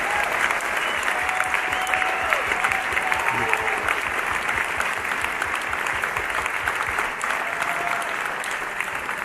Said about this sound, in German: Ganz, ganz riesigen Applaus von Ihnen